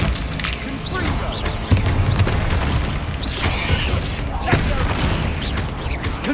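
Confringo blasting spells explode in a Harry Potter video game: two sharp blasts stand out over a busy bed of clattering in-game noise, one early and one later in the stretch.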